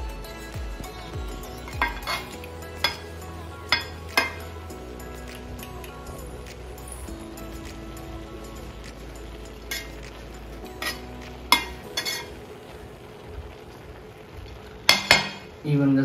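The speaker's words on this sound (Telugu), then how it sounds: "ఇప్పుడు ఇంకో లేయర్ రైస్ కూడా వేసుకోవాలి. వేసుకొని ఈవెన్గా స్ప్రెడ్ చేసుకోవాలి." A spoon spreading a layer of rice in a Hyderabadi mutton dum biryani pot, a series of sharp metal clinks and scrapes against the vessel over a low hum, with louder knocks near the end.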